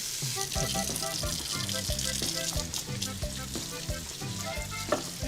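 Bacon and chorizo frying in a pan give a steady hiss and crackle, with rhythmic clinks of a utensil stirring against the pan under a soft voice.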